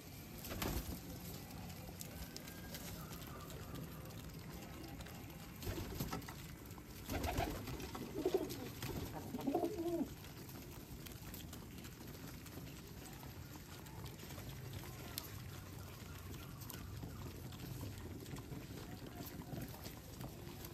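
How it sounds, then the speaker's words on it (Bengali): Domestic pigeons cooing softly at a Bangladeshi pigeon farm, low murmuring calls scattered through steady background noise, a little louder in the middle stretch, with no talking. "এই কবুতরটা আবার আমার হাতেও আছে।"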